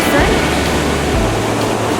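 Black Sea waves washing along the Crimean coast, a steady broadband surf roar that swells slightly early on and holds at a loud, constant level throughout, with no distinct individual breakers.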